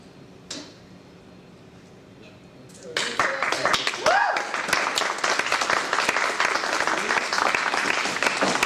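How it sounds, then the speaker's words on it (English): A crowd breaks into applause after a quiet stretch, dense, steady clapping from many hands that fills the room and carries on to the end. "People clap."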